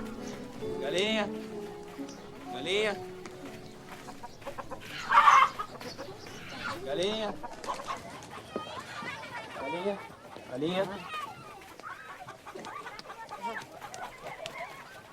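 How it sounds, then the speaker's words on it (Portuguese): Chickens cluck and squawk in a rural farmyard scene from a 2005 Brazilian film. Several birds call in bursts, close and clear, while people talk in between and over them. "Galinha."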